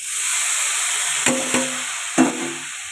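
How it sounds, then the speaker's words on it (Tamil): Broccoli stir-fry being stirred in a pan, a steady frying hiss with two brief scraping knocks of a spoon against the pan, close and moderately loud, with no voices. "கொட்டிட்டு கிண்டுவோம்."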